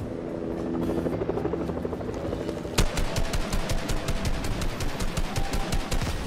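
Helicopter in Fortnite, Season 4 Nexus War: a loud, close, steady rotor chop that pulses rapidly throughout, with a sharp burst of gunfire partway in.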